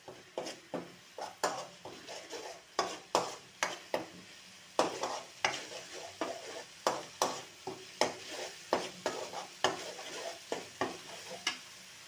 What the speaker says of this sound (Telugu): టమాటా పేస్ట్ వేసాక ఒక 5 minutes ఇట్లా తిప్పండి ఆయిల్లో కొంచెం సేపు